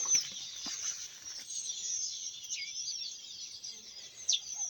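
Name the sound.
birds singing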